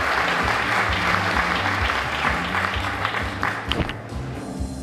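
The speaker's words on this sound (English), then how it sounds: "Let's give her a great big round of applause." Audience at a teacher of the year celebration event applauding, dense sustained clapping close and loud throughout, thinning slightly toward the end.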